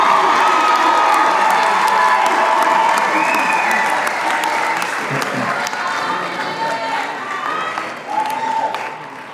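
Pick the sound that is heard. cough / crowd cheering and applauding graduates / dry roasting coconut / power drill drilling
crowd cheering and applauding graduates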